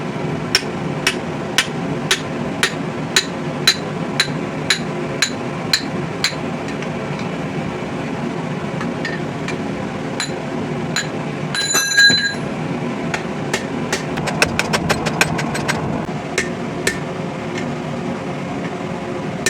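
Hammer blows ring out on rebar as it is spread into the arms of a sword guard above the handle, in a steady rhythm of sharp metallic strikes, with a dense cluster midway and quicker hits near the end.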